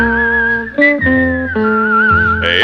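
A whistled melody from a Western theme tune, clear sustained tones with a few pitch changes and short breaks, loud and close with no talking.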